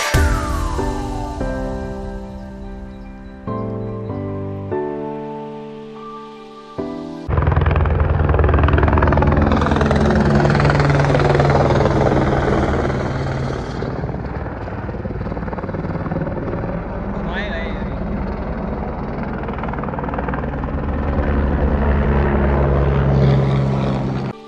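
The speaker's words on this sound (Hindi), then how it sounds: "वो देखो गाइस सामने से हेलीकॉप्टर आ रहा है" A helicopter's throbbing rotor and engine roar grows loud and close after a few seconds of music, holding steady as it approaches and passes overhead near Dalai Hill, Mussoorie.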